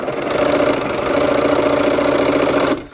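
A sewing machine stitches quilt squares together, running as a steady, close mechanical whir with a fast rhythmic hum for several seconds before stopping abruptly.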